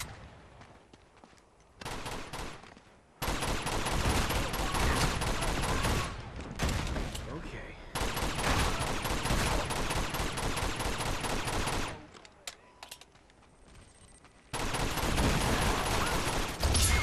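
Bursts of automatic gunfire and rapid shots from a video game come in dense, loud volleys separated by short lulls.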